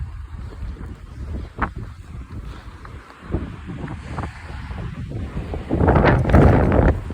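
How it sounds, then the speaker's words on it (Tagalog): Strong wind on a hot, sunny street in Kuragano, Japan, buffets the microphone in heavy rumbling gusts, rising to a louder roaring blast near the end. "Lakas ng hangin guys, pero ang init."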